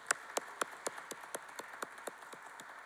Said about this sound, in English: That deserves its own round of applause